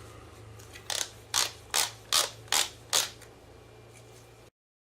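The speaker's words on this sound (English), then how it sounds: "Now I'm just gonna flip it and tighten these bolts." A ratchet tightens valve body bolts on a Mercedes-Benz W202 C-Class transmission, six sharp clicking strokes in an even rhythm, close and clear over a faint background hum.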